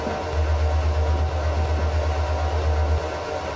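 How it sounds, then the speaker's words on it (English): A freight train rolls past in the video game Transport Fever, with a loud, steady low rumble and a constant hiss that hold for several seconds before easing off near the end. "It's a freight train, it's going to be loud."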